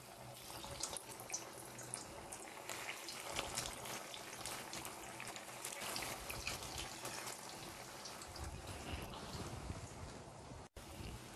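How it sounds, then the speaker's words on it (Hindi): Mutton keema patties fry in hot oil, giving a dense, steady hiss of bubbling and spattering that stays close and fairly even throughout, with no one speaking. "ऑयल गरम हो गया है अब हम कीमे की पैटिस को फ्राई करेंगे"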